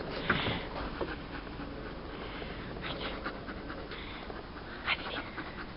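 A dog pants quietly, rapid, soft breaths, heard close over a hissy indoor background, with a couple of brief louder bursts.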